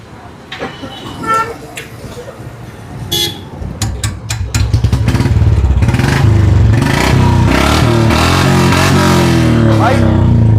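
At a second-hand Royal Enfield Bullet fair, a motorcycle engine is started and revs loudly and steadily through the second half, amid earlier clatter, a horn toot and people talking nearby.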